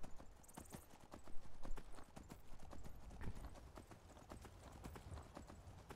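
Horse hooves clip-clop at a steady trotting rhythm in Skyrim, near and fairly loud throughout, with a brief neigh-like sound and light speech.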